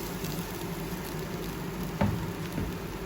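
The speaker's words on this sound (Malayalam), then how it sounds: "ഇനി ആ സെയിം പാൻ തന്നെ കഴുകാതെ ചൂടാക്കി അതിലേക്ക് അരച്ചെടുത്ത ആ മിക്സ് ഒഴിച്ചു കൊടുക്കുന്നുണ്ട്" Ground masala paste hits a hot, unwashed pan for butter paneer masala and sizzles in a steady, bright hiss, with a soft thump and spatter partway through as the paste settles.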